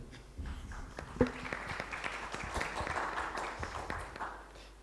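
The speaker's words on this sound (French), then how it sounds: "Vous pouvez applaudir." Audience applause at a French round-table conference on the digitalisation of logistics, a fairly soft, steady patter of clapping from a seated room lasting several seconds, with one sharper clap near the start.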